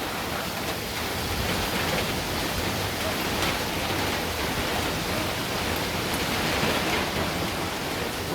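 Steady rain falls throughout during a rainy-season cooking session in a kitchen, an even, dense hiss with no pauses and no voices heard.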